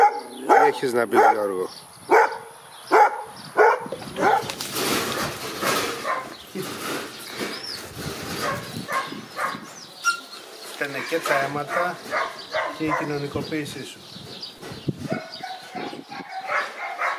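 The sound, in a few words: unsocialised hunting dog barking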